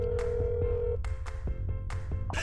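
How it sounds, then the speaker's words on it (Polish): In a video game, a phone line rings: a steady electronic tone followed by a series of sharp, evenly spaced ringing pulses, loud and close with no voices. "Czy sobie do tego ziomeczka zadzwonimy?"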